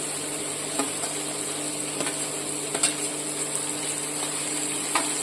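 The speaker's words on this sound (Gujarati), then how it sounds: "હવે આપણે લસણ અને ડુંગળી સરસ સતરાઈ ગયું છે" Onion and garlic sautéing in a pan for rajwadi khichdi, a low steady sizzle with occasional light clicks of a spoon against the pan, close and quiet, no speech.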